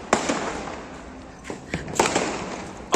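Firecrackers burst at a village New Year 2024 party, several sharp bangs going off at irregular intervals, some close and loud, with a lingering crackle between them.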